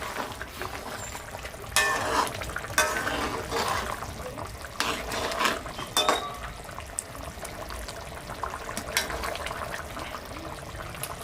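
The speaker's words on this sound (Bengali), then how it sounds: "মাঝে মাঝে নাড়া দেবো যাতে নিচে মাছগুলো লেগে না যায়।" Fish curry simmering in a pan in a village outdoor kitchen, with a steady bubbling, watery bed of sound broken by occasional louder scrapes and clinks as the spoon stirs the fish, moderately close.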